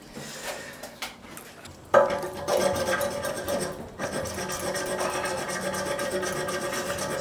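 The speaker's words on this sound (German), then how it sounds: "Mit einem Sägeblatt, um den alten Messingkörper von der Keramik zu trennen" A hacksaw blade cuts an old brass siphon away from a ceramic urinal: a quiet rasp at first, then steady, close scraping strokes that keep going without pause.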